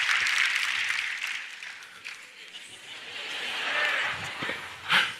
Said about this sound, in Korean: 우리 박수 한번 쳐주시기 바랍니다